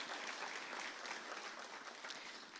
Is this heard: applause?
yes